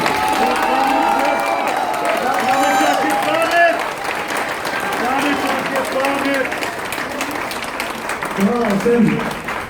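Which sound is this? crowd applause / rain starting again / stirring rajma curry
crowd applause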